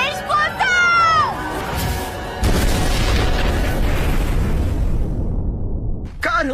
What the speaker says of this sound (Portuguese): O feitiço de hoje foi incrível! Bela explosão!